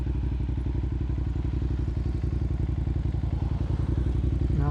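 A motorcycle engine runs close by while the bike is ridden, a steady rapid low thumping with mechanical rattle, continuous and loud throughout.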